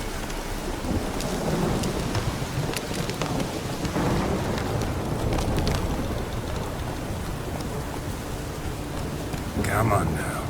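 Heavy downpour with rumbling thunder in the video game The Witcher 3: Wild Hunt, a dense, loud, continuous wash of rain with rolling thunder throughout.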